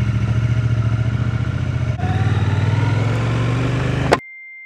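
A Triumph Speed Twin 1200RS with a 1200cc parallel-twin engine pulls away, its loud exhaust pulsing rhythmically and rising in pitch as it accelerates, then cuts off abruptly.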